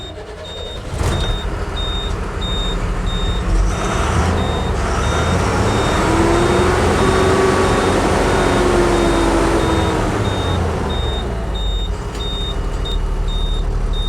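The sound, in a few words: Tata BS4 truck being started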